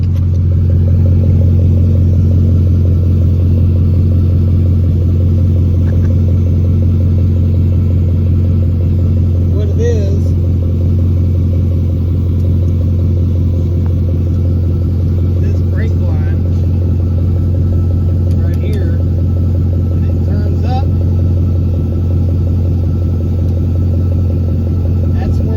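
A straight-piped 2002 Mercedes CLK430, which had sat for a couple of years, idles with a loud, steady, deep exhaust rumble, close and continuous throughout.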